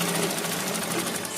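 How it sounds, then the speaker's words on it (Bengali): Sewing machine stitches lining onto fabric with a rapid, even mechanical rattle, close and continuous. "সেলাইটা দিয়ে নিতে হবে কাপড়ের ওপরে আস্তার বসিয়ে"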